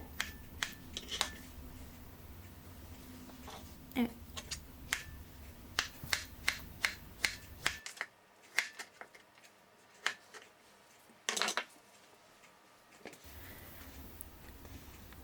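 Beets being chopped with a knife on a board, a series of sharp, irregular close taps and clicks, with a quieter stretch before the cutting resumes.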